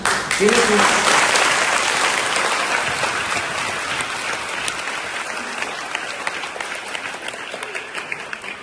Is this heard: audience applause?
yes